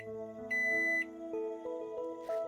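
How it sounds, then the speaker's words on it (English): An alarm rings out in the video game Angels with Scaly Wings: clean electronic tones step through short sustained notes, with one brighter, higher beep held for about half a second, over quiet synth tones. "Suddenly the sound of an alarm rings out throughout the room"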